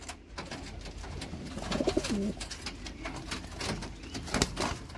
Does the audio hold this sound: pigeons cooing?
yes